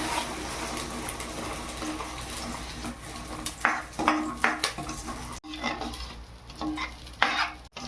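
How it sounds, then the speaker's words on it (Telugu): Egg masala curry paste sizzles in oil in a pan, stirred with repeated scraping strokes that grow busier in the second half, close and fairly loud, with a brief cut partway through and no speech. "ఆయిల్ బయటకు వచ్చే వరకు, ఆయిల్ కక్కే వరకు వేపుకోవాలండి"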